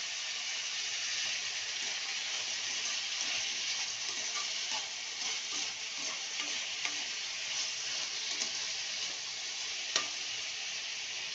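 Ivy gourd chutney ingredients frying in a pan, a continuous bright hiss and sizzle held at an even level, with occasional faint ticks from stirring and no voices.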